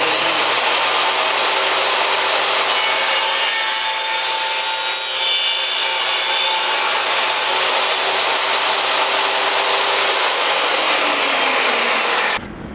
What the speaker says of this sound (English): we're gonna go cut this on a table saw